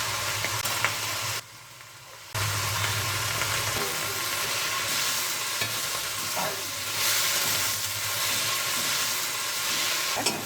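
Drumstick leaves with salt and turmeric fry in a pan over a low flame, giving a steady close sizzle with ongoing stirring and scraping that briefly drops away before resuming.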